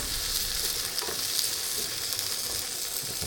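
Vegetables and tilapia sautéing in a pan for a veggie tilapia scramble, a steady broadband sizzle with light crackle, close and continuous with no talking.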